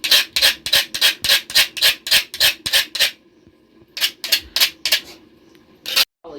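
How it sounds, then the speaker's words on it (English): Knife blade drawn repeatedly against a sharpening stone or rough surface in a village kitchen, about ten quick rasping strokes in a steady rhythm, a pause, then four more strokes and a final one, close and clear. "she told me that this is what she uses to sharpen her knife"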